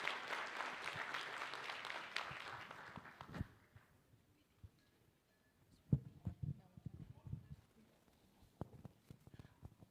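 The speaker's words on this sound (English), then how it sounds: "A big round of applause, please." Audience applause at a World Anti-Counterfeit Day event, dense clapping for about three seconds that fades out into a quiet room with scattered footsteps and small knocks.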